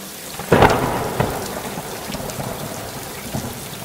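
An evening thunderstorm: a sharp nearby thunderclap, then a second rumble, over steady rain pattering on surfaces, with the rumbling fading into the downpour.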